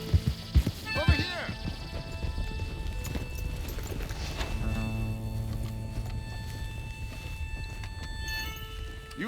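Horse hooves clip-clop rapidly in Red Dead Redemption 2 gameplay, with a whinny near the start, a steady galloping rhythm under game music, and people talking over it.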